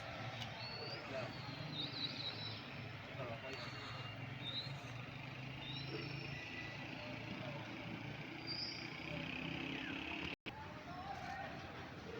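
Many birds at a bird contest in Birecik, Şanlıurfa, give faint, scattered chirps and calls over a steady outdoor murmur, heard from a distance.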